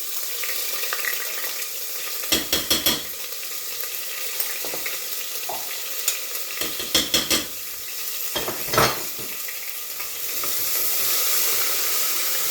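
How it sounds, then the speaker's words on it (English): Garlic and ginger mix sizzles in a pan for a meat and potato curry, with soft steady frying noise broken by several sharp scraping bursts as it is stirred. "Just let it cook the rawness out of the garlic and ginger."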